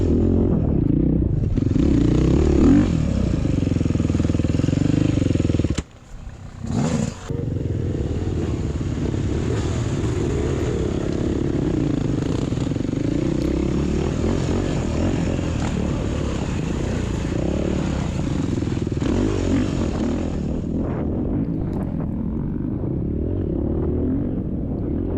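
A motocross bike rides a dirt track at an MX ride park in West Virginia, its engine droning steadily and close throughout, briefly cutting out once before resuming, with rough clatter from the terrain.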